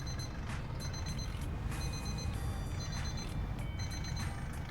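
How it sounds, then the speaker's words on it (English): An alarm clock sounding from a bedroom in the winter game My Winter Car, repeated electronic beeps in short bursts over a steady low rumble, fairly loud and continuous. "It's the alarm in the bedroom going off to tell me it's time to wake up"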